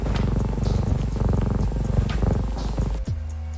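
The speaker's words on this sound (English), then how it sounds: "See, there's the kitty purr." A looped cat purr sample in a lo-fi soundtrack, a steady low rumbling purr layered with music, loud and continuous, cutting out near the end to a faint hum.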